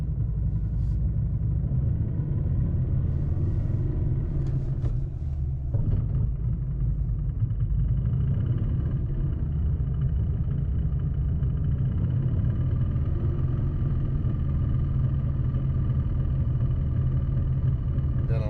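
Inside a car in gear, a low steady rumble comes from a loud transmission and a rattling clutch, a continuous droning vibration with a few faint clicks near the start.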